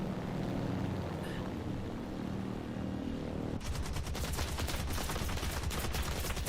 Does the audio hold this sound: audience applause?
no